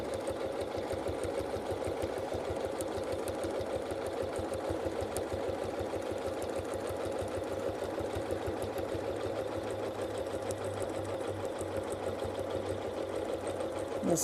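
Sewing machine running steadily during free-motion quilting on Moda Grunge fabric, a continuous fast mechanical whir and rapid needle ticking, close and even throughout, with no talking.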